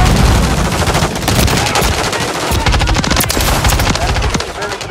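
Call of Duty: Modern Warfare III multiplayer gunfire, rapid automatic bursts crackling almost continuously, loud and close, dense overlapping shots throughout with faint voice underneath.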